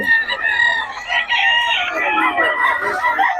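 A White Kelso rooster crows loudly and close, a long strained call with clucking around it, filling the whole moment.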